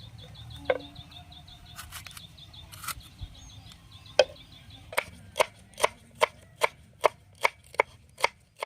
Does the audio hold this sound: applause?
no